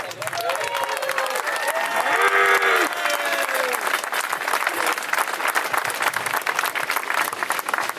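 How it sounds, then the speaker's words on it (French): A crowd at a demonstration breaks into steady, dense applause that holds throughout, with a few voices calling out briefly over the clapping early on. "merci de les applaudir"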